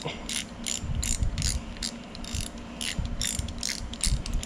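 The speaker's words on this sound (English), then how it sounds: "my boy's favorite vintage Stanley ratchet here" A vintage Stanley ratchet clicks steadily through repeated short bursts of pawl ticks, close and fairly loud, during work on a 351c engine build, with no talking.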